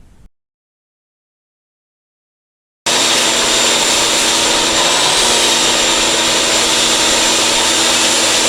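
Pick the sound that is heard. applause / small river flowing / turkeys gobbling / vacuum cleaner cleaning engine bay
vacuum cleaner cleaning engine bay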